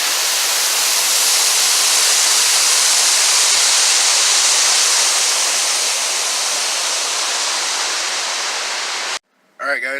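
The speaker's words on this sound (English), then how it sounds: "So Trevor, what do you think of the waterfalls?" The waterfall at Hanging Rock gives a loud, steady, close rushing roar of falling water that continues without a break, then cuts off abruptly just before a brief voice at the end.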